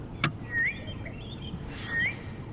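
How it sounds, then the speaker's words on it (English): Southern boubou, a shrike, calling twice outdoors in the bush: two short rising whistled notes about a second and a half apart over a steady low rumble, with a brief sharp knock near the start. "the bird you can hear going southern boo-boo. A shrike of sorts."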